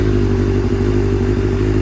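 A 1989 Kawasaki Ninja ZX7 motorcycle engine runs steadily close by, a loud, even low rumble with a busy mechanical clatter riding over it and no voices.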